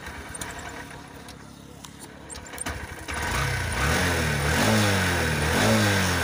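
A Honda SP 125 BS6 fuel-injected motorcycle engine starts with a brief crank, then settles into a steady, close idle that continues to the end with no talking.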